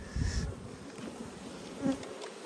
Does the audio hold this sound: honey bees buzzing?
yes